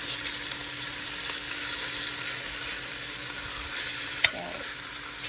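Beef short ribs searing in a Dutch oven: a constant close sizzle and crackle of hot fat, with a soft clink partway through.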